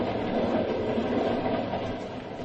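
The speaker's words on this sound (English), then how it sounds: "We're running at 60 miles an hour on open track in the dead of night." A train rumbles steadily along open track at 60 miles an hour at night, a loud continuous roar with faint rhythmic clatter, close and unbroken throughout.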